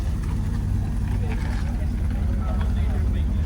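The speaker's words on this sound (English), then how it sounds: "We got the Dakota rolling out. A V8 Magnum rumbling away." A Dodge Dakota Sport pickup with a V8 Magnum engine rumbles steadily as it rolls out at an outdoor classic car meet, a continuous low, loud drone with crowd chatter faintly in the background.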